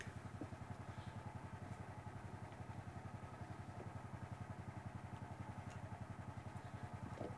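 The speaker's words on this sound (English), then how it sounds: "Begin by pulling out the wire from the power winch." A power winch pays out wire for a log sulky, its small engine chugging in a steady rapid rhythm throughout, fairly close but low in level, with faint clattering over it and no speech.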